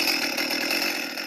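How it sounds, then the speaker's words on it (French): A chainsaw runs at a steady, loud roar just before coconut palms more than 20 meters tall are felled in Tahiti. "Rien n'est laissé au hasard avant de démarrer sa tronçonneuse."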